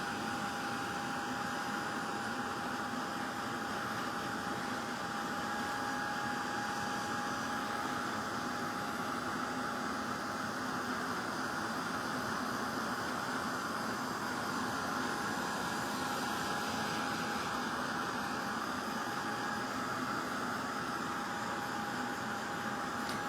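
A heat tool blows in a steady, continuous whine and rushing hiss while drying paint on a craft cog clock, holding one even tone throughout with no talking.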